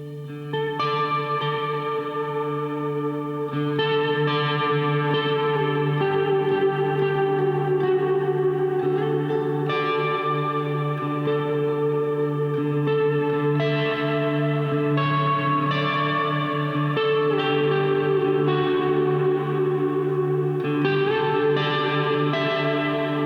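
Electric guitar run through an effects pedal board with a long, swelling tail, sustained layered chords ringing with echo, reverb and chorus, steady and loud throughout with no talking.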